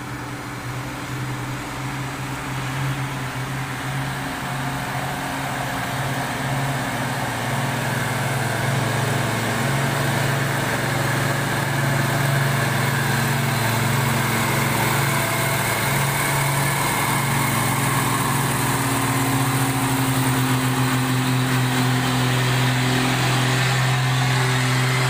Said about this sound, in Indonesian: truk tangki yang ambil jalur kanan di sini ya, untuk mempermudah mendaki tanjakan Bukit Kodok.